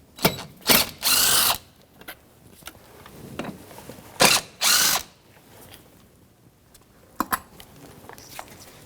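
Ratcheting 10 mm socket wrench backing out airbox mounting bolts on a 2003-2008 Subaru Forester 2.5L H4, several separate bursts of clicking pawl, close and fairly loud with short pauses between turns.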